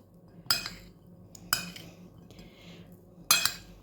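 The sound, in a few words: stirring pie filling of dried apricots, prunes and nuts in a bowl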